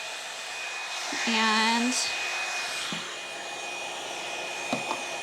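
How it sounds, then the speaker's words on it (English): A Revlon One-Step hair dryer blows with a steady airy whoosh throughout, a person briefly speaking over it near the start. "I'm just gonna blow dry that really well with my Revlon one-step hair dryer"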